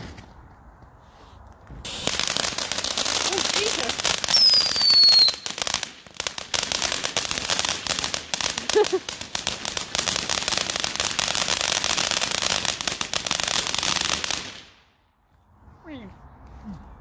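Backyard fireworks fizz and crackle in a dense, continuous spray of sharp pops for about twelve seconds, with a brief whistle early on, then cut out into near silence as faint voices and movement follow.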